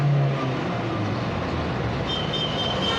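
Kia Carens engine running on CNG during calibration, revving steadily on the accelerator with a continuous close rumble and slight rise in pitch, no talking.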